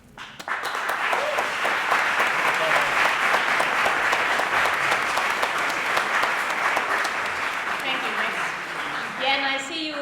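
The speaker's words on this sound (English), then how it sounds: "Nodding and clapping and everything" An audience claps steadily at a political talk, dense sustained applause that starts abruptly and runs throughout, with a voice emerging near the end.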